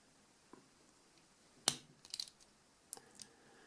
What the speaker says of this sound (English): I'm going to just cut the little tab off with my pliers